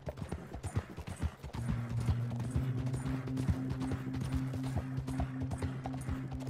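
Horse hooves gallop in Red Dead Redemption 2, a steady rapid clip-clop close by with a low droning tone entering partway through.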